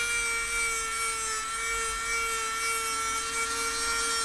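A Dremel sanding drum grinds a titanium 1911 pistol frame, a steady high-pitched motor whine with a rough abrasive rasp, close and continuous throughout.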